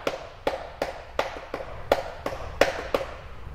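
Roughly nine crisp hand claps land in an even, steady rhythm, closing out a wrestling tryout cheer. They are close and dry, with quiet gaps between them.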